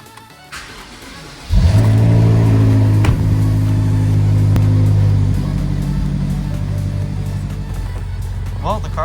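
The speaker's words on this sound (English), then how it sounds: "Well, the car's out for the first time in a very long time." A BMW X5 M, just back from major repairs, starts and pulls away on a test drive: a loud, steady engine drone rises suddenly, holds, then eases to a lower rumble while the driver talks over it.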